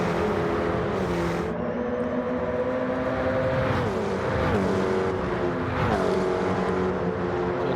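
Race cars lapping a circuit in a GT sprint race during pre-season testing, engines droning steadily with rising and falling pitch as cars pass and shift, a continuous loud racing roar throughout.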